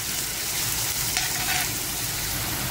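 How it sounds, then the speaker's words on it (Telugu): Salted onions fry in a pan for a village-style fish curry, a loud, close, continuous sizzle with a brief stirring scrape midway and no voices. "ఆనియన్స్ ఇలా ఫ్రై అవుతూ ఉంటాయి."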